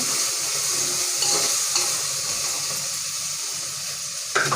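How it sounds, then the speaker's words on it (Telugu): A spoon stirring Telangana-style pappu charu (dal) in a pot, a steady close simmering sizzle with soft scraping and a clink near the end, no speech. "కలుపుకున్నా."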